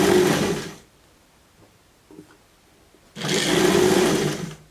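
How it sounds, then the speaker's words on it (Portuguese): A sewing machine runs in two loud, close bursts of zigzag stitching on a plush slipper, separated by a quiet pause with faint handling clicks. "Vou costurar com zigue-zague."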